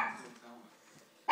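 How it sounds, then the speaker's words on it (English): A puppy gives a short yip or bark, after a brief stretch of faint voice and quiet. "Oh, you're just a puppy."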